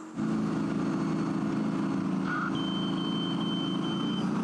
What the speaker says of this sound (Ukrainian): Так звучить система сигналізації, коли по танку влучає промінь машини супротивника.